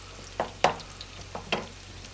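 Sucuk and eggs cook in a pan while a utensil stirs them, giving a few soft scraping strokes over a faint, quiet sizzle.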